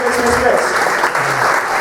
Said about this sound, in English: Round of applause for my card players.